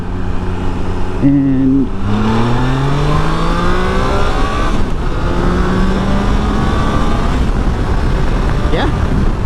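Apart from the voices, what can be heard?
Triumph Tiger Sport 660 motorcycle accelerating in second gear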